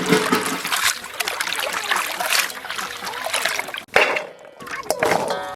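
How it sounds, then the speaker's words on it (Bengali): Beans being washed for a chicken curry cooked for village people: water splashes, trickles and swishes steadily, with a brief pause and then more sloshing. "বিনস ভালো করে ধুয়ে নেব।"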